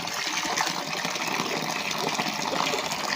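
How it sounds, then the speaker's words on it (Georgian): Clean water gushes and pours in a loud, continuous, unbroken rush, close by with no voices. "აგერ სუფთა წყალი მოდის."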